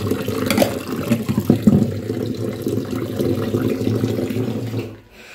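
Water runs steadily over dirty, soil-caked plates being washed, a continuous splashing gush with small clatters, ending abruptly in near silence.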